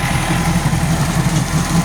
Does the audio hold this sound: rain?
no